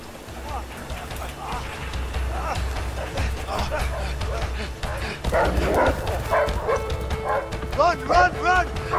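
Dogs bark and yip rapidly while giving chase in the video game A Way Out, over rain and shuffling game noise, with someone shouting in panic and higher yelps rising near the end.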